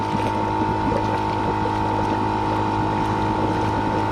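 An air compressor blows air through a swimming pool's return lines during closing, a steady close-up mechanical hum and rushing roar that continues unchanged throughout, with no talking.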